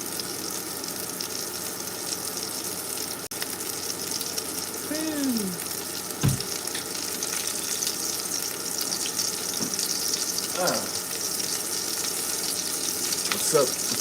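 BBQ ribs sizzle on a grill with a steady, bright hiss that lasts the whole clip. Occasional soft clinks and small pops break through the hiss.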